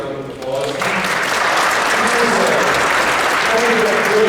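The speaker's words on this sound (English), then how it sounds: "if you could join me in giving him a huge round of applause" A high school audience at Riverton High School gives sustained, loud applause, a dense wash of clapping that swells and holds steady, with some voices mixed in beneath it.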